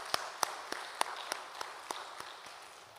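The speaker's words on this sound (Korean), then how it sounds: "하나님께 감사와 영광의 박수 올려드리도록 하겠습니다" A church congregation at a dawn worship service claps in unison, producing a faint, evenly spaced series of about a dozen sharp claps that fade gradually, with no talking over them.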